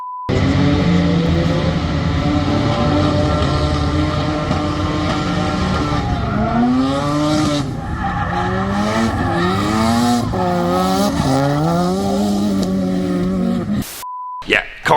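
A turbocharged K-series-swapped FRS drifts on track, its engine roaring loud and steady while the tires squeal in long rising and falling wails, ending in a sudden cutoff with short beeps.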